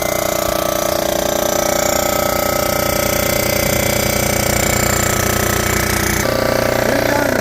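A cylinder head surfacing machine takes a light two-thousandths cutting pass across an engine cylinder head, a loud, continuous grinding roar with a dense mechanical rattle that shifts slightly near the end.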